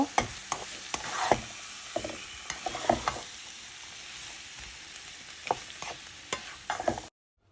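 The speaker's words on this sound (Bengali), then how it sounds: "এখন দিয়ে দিব কেটে রাখা শসা আর টমেটো দিয়ে আবারও ভালোভাবে নেড়ে ছেড়ে" Chopped cucumber and tomato stirred in a hot pan for a cashew nut chicken salad, with a continuous sizzle and repeated scrapes and clacks of a spoon against the pan, close and clear.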